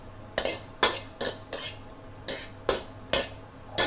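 Fermented fish (pla ra) dry-roasting with chili in a pan, heard as a series of sharp metallic scrapes and knocks of a utensil against the pan, about eight strokes in a loose rhythm, close and moderately loud with no talking.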